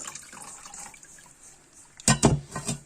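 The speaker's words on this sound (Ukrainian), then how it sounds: "ми зіляли цю гарячу воду" Hot water is poured off cooked crucian carp, a soft trickle followed by a louder splashing pour near the end.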